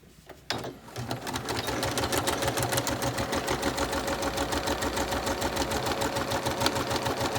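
A sewing machine stitching the bottom seam of a fabric courtesy mask starts after a brief click and runs as a steady, fast mechanical whir with rapid needle ticks, close and loud, with no talking.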